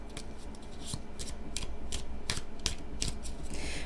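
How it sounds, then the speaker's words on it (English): A deck of tarot cards is shuffled by hand at close range, giving a run of crisp, irregular snapping and riffling clicks over a faint steady hiss, with no voices. "this is why I don't shuffle the cards on camera because of how long it takes me."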